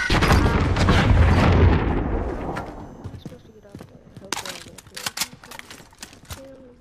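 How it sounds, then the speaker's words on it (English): A rocket launch and explosion in a video game, with a loud deep boom and rumble at the start that fades, followed by scattered sharp smaller impacts and pops. "Launching rocket."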